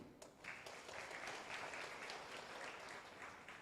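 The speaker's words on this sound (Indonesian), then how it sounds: "Tepuk tangan buat Mas Didi" An audience at a stand-up comedy show applauds a guest, a short burst of dense clapping that swells quickly and holds steady, fairly quiet and distant in the room.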